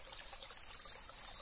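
Cicadas on a summer mountain path give a steady, high, hissing drone that fills the whole short stretch, fairly faint and with no voices.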